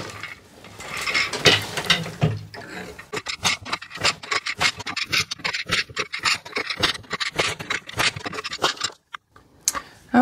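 A weaver works an 8-shaft floor loom, producing a steady run of rhythmic wooden clacks, ratcheting and rubbing as the shafts and beater move, close and fairly loud with no talking.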